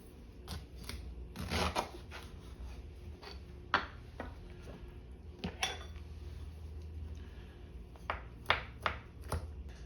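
A knife minces a chunk of ginger on a cutting board, producing quick, irregular crisp chops and taps at close range, with no talking.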